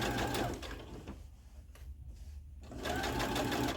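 Sewing machine running steadily as it seams up the outside of a thrifted pant leg along a line of pins, loud and close, easing to a quieter stretch midway before speeding up again.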